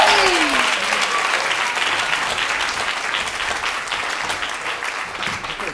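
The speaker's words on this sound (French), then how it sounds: "on s'applaudit." Dense audience applause at a live music performance, loud and sustained from the start, with a faint voice briefly audible early on before the clapping slowly eases.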